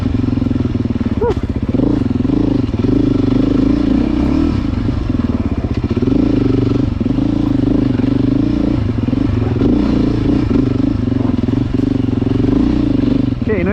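A Beta dirt bike engine runs in full power mode with no traction control, a loud continuous throaty drone with rising and falling revs and clattering, close and steady throughout, with a voice briefly heard.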